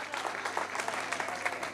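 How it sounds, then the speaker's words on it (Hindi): An audience at a poetry mushaira claps briefly, a quiet spatter of scattered hand claps from a crowd without any talk. "माँ के नाम की ताली"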